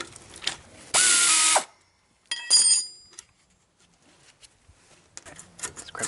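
Sharp ratcheting clicks and metallic bursts come from a wrench being worked on a caliper slide pin bolt of a Chevy Tahoe rear brake. The sound arrives in short, separated bursts with quiet gaps between them, close and fairly loud.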